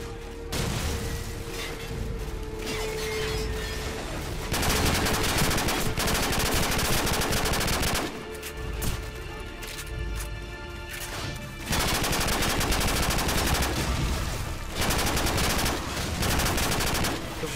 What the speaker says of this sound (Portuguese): Esses tiros arregaçam